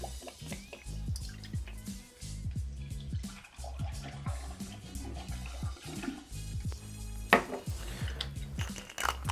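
Wray & Nephew overproof rum trickles slowly from a bottle fitted with a pour-restricting cap, making a stream of small, rhythmic glugs and drips, quiet and close, with a brief clink partway through.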